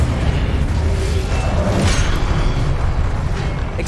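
The Incendio fire spell in Hogwarts Legacy bursts with a heavy rumbling whoosh, loud and close, with a brighter flare partway through over a continuous low roar.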